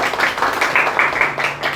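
Audience applause at a talk on preventing atrocities against women and girls, a steady wash of clapping hands sustained through the whole moment at moderate level.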